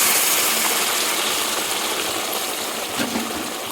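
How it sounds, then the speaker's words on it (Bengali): Hot water pours into a simmering shrimp and taro curry in a pan, a steady loud rushing gush that tapers slightly toward the end. "এবার দিয়ে দেবো জল, আর গরম জলে দিয়ে দেবো।"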